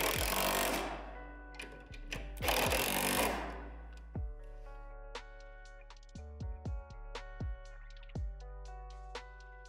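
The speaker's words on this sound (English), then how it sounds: "Now you can tighten the hardware on the backboard brackets." Hardware being tightened on the backboard brackets of a Lifetime 50-inch portable Strong Arm basketball system: two loud, buzzing power-tool bursts up close, then a sparse series of sharp metallic ratcheting clicks.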